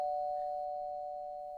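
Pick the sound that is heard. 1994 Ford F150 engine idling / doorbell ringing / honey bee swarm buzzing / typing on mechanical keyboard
doorbell ringing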